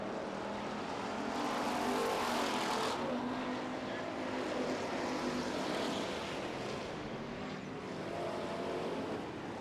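Street stock race cars lap an oval track during a heat race, their engines roaring in a loud, continuous wash that swells and fades slightly as the field passes, with no talk.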